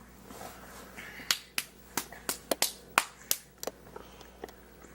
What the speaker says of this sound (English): He's clapping his feet.